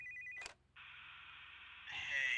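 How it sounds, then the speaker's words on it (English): A phone rings in the horror video game Fazbear's Return Remastered, a clear electronic ringtone with a short tone, a brief click and pause, then a longer sustained ring that swells louder at the end. "Oh, there's a phone call!"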